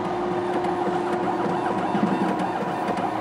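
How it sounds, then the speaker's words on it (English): An ACL Top hemostasis analyzer runs its syringe pumps, pushing fluids through needles: a steady mechanical whir and hum with a constant tonal drone and faint periodic ticks, close and moderately loud throughout. "You can see the syringe pumps in the back there and pumping fluids, and it's pumping all the fluids through the needles right now."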